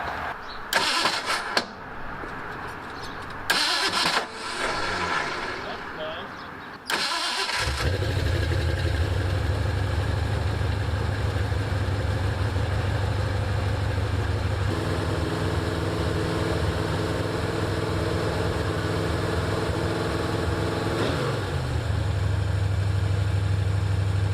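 A Ford Mustang with a carburetor and fuel pump problem being started: a few cranking bursts and a catch, then the engine settles into a steady, loud idle that runs on with no talking.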